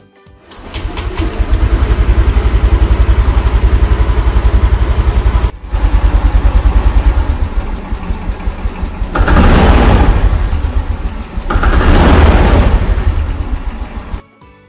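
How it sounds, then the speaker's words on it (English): A motorcycle engine cranks and catches, then runs at a steady loud idle with a brief cut-out and two louder revving surges near the end. "Start the engine."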